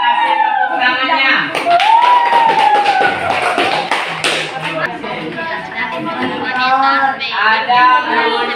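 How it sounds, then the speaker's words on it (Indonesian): Classroom audience clapping for a student group at a computer engineering and informatics session, dense hand claps mixed with chatter, a whistle-like tone and voices throughout. "Ya, sekarang kasih tepuk tangannya."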